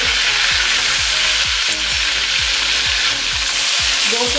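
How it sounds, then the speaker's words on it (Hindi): Mutton with ginger garlic paste fries in a pan, giving a loud, steady sizzle broken by regular scraping strokes as it is stirred. "अब इसमें मटन ऐड करेंगे, वन टेबल स्पून अदरक लहसुन का पेस्ट"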